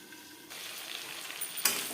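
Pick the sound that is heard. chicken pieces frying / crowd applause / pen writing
chicken pieces frying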